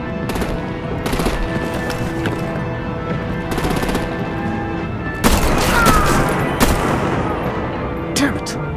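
Rapid machine-gun bursts and heavier artillery booms fill a battle scene in the video game Batman: The Enemy Within, loud and sustained, with a sharper crash midway and voices shouting over the gunfire.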